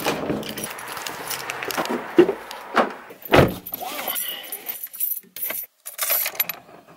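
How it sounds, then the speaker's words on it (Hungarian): A set of keys jangles in brief bursts as someone picks them up before heading out to a car, with scattered clinks and handling noises close by. "hozom a kulcsomat"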